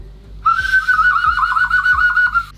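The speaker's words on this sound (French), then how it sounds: "Le sifflet est trop drôle." During a game of hide and seek in a villa in Mexico, a toy whistle gives one loud, sustained, wavering tone for about two seconds over a soft, rhythmic thumping.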